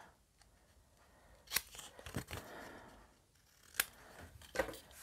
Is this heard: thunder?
no